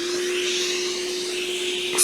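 Hot air rework station blowing steadily while heating an Xbox One S board from the bottom during an HDMI port repair, a continuous airy hiss with a fixed tone running throughout, close and even.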